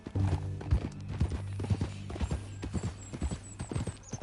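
Horse hooves clip-clop in a steady walking rhythm in the video game Red Dead Redemption 2, close and clear, with a brief whinny near the start.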